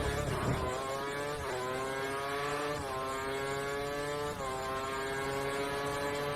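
A Formula 1 race car engine screams at full power in F1 2013 at Abu Dhabi, a steady high-pitched drone close by with brief dips and rises as gears shift.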